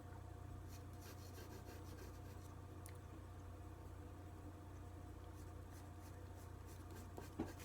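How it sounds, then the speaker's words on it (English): A sandy-coloured pencil scratches and rubs across paper, quietly sketching a rough outline of a park pavilion building in soft, continuous strokes over a low background hum. "let's take that sandy color and I'm going to draw in a rough outline of the building."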